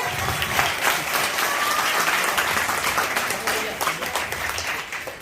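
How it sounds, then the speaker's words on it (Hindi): A crowd at a business meeting in Meerut applauds steadily and loudly throughout, a dense wash of clapping with no pauses. "तालियां हो जाए आपके अपने लिए"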